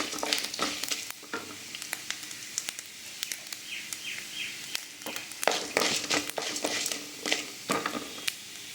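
Oil sizzles and crackles steadily as spices temper in a pan for chickpea sundal, with sharp popping bursts and a faint bird chirping far off in the background.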